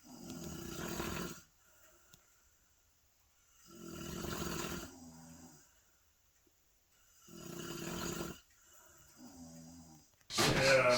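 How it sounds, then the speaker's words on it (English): Deep, rattling snoring from a person asleep at night at a deer camp, three long loud inhalations spaced evenly with quiet pauses between, close to the recorder. "I've got recording of whoever it was last night. It was dueling snoring last night."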